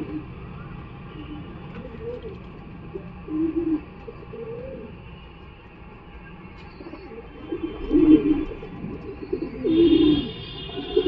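A male Khoten pigeon at a Galiff Street pigeon market gives a few low throaty coos, short bursts near the end, over a steady background hum and faint street noise.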